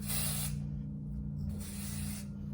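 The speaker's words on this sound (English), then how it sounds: "I just pick up my hair and spray it" Two bursts of aerosol hair volume spray hiss close by, with a short pause between them, over a steady low hum of a garage door opening in the background.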